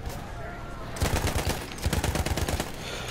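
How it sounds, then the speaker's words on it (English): Battlefield 1 gunfire: a quieter stretch gives way to loud, rapid machine-gun bursts, a dense chattering run of shots that fires steadily to the end. "Oh, that was crazy shooting."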